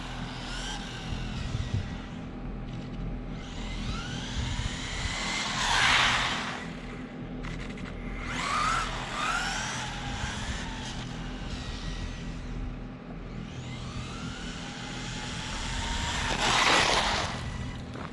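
An RC car running a Rlaarlo Surpass 60A ESC on 3S power whines past in repeated rising and falling sweeps, swelling louder on close passes and fading between them over a steady background hiss.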